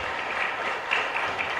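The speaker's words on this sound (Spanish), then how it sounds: "Un fuerte aplauso para ellos entonces." Brief burst of applause from a congregation at Mass in the Capilla Santa Librada chapel in Ñemby, steady moderate clapping heard indoors.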